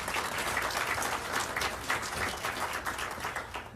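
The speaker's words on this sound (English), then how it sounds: "Let's give them all a big warm round of applause." Steady applause from a debate audience fills the hall, dense overlapping clapping held at an even level throughout, with no voices on top.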